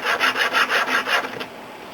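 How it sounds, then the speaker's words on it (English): A pool cue tip is scuffed with an abrasive strip in steady rhythmic rubbing strokes, about seven even passes that taper into a few lighter rasps and then stop, close up with no voices. "I'm going to scuff it up so it'll hold the chalk, and I have to have this handy dandy that's kind of abrasive strip here"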